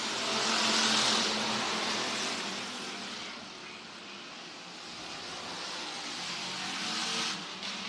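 Bomber-division stock cars race around the Worthington Speedway oval, their engines a continuous loud roar that swells and fades slightly as the pack runs down the back straightaway.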